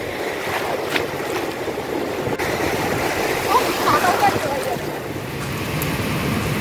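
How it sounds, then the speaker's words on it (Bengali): Sea waves at Mandarmani beach at low tide roll in with a steady broad rush of surf, mixed with wind buffeting the microphone, continuous and fairly loud throughout. "একটু ভিতরে গেলেই ঢেউয়ের উচ্ছ্বাসটা বোঝা যায়"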